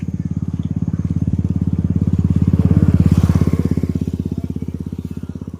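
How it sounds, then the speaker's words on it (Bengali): A motorcycle passes close by on an evening walk, its engine a steady rapid putter that swells to a peak midway and then fades as it moves off, with no talk over it. "একটা বাইক আসছে"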